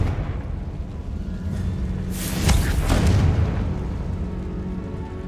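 A Confringo fire spell cast in Hogwarts Legacy bursts into a loud booming explosion about midway, with a fiery rumbling roar that swells and then fades over a low ambient hum, with no talking.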